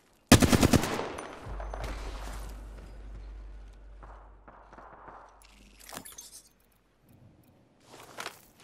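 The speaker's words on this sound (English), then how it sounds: "Firing on that cargo bot." Rapid automatic gunfire hits a cargo bot in the video game Apex Legends: a dense burst of shots at the start, followed by a low rumble, scattered impacts and footsteps, then a few sharper bursts later.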